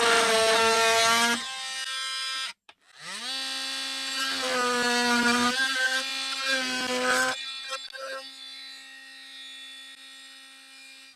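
An oscillating multi-tool cuts into the housing of an old DeWalt reciprocating saw, a loud high-pitched buzzing whine in several bursts with a brief pause, then tapering off near the end.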